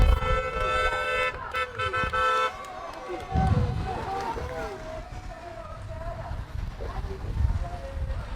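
Car horns honk repeatedly as cars pass through a free toll booth at the Île de Ré bridge during a Gilets jaunes protest. Several tones sound in bursts over traffic noise, with voices nearby.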